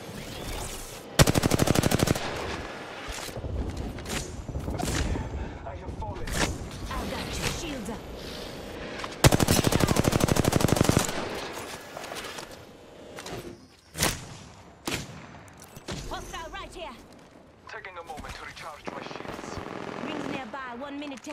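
Apex Legends gunfire in repeated loud bursts of rapid automatic shots and single cracks, with gaps between exchanges and people talking over the firefight.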